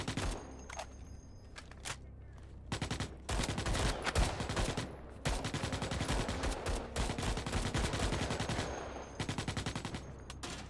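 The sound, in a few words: gunfire in the video game Starship Troopers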